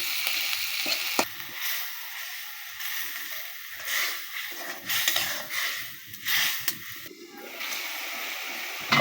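Pangas fish and bottle gourd fry and sizzle in a pan while being stirred, a steady soft hiss broken by scraping and bubbling bursts, with no talking.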